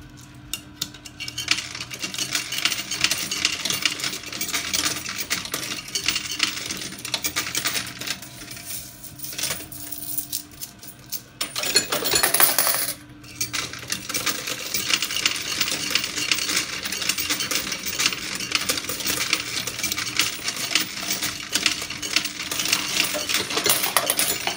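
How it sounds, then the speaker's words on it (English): Coins clatter and jingle continuously as they drop in an arcade coin pusher machine, a dense metallic cascade with one louder rush of falling coins midway. "so many coins fell off of the back"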